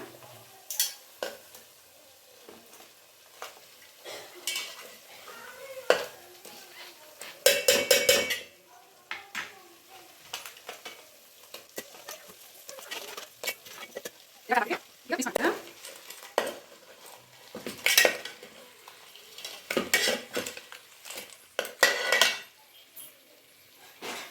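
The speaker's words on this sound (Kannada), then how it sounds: "ಕ್ರ್ಯಾಬ್ನ ಮಿಕ್ಸ್ ಮಾಡ್ಕೊಂಬಿಡೋಣ ಮಸಾಲೆ ಜೊತೆ ಕ್ರ್ಯಾಬು ಸೇರೋ ರೀತಿ ಮಿಕ್ಸ್ ಮಾಡ್ಕೊಂಬಿಡಿ" Crab pieces stirred into fried ground masala in a pan, with repeated scraping and clattering strokes of a spoon against metal over a soft, steady sizzle, loud and close with brief pauses between bursts.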